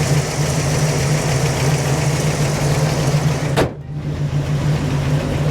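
A Pontiac Trans Am with a 455 cubic-inch engine and four-speed idles with a steady, deep rumbling throb, loud and close, with a brief click and momentary dip near the end.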